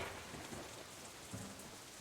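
Steady hiss of rain starting to fall outdoors while walking down a hill, with low rumbles of thunder swelling briefly beneath it, continuous and fairly loud.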